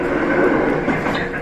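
A Kintetsu express train on the standard-gauge line out of Nagoya toward Ise-Nakagawa rumbles steadily from inside the front car, a dense continuous roar of wheels and motors.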